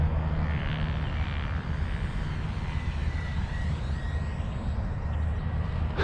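Steady roar of an FMS Integral 80mm EDF model jet flying overhead on varying throttle through a turn, a continuous whooshing drone with broad rushing noise and no talking.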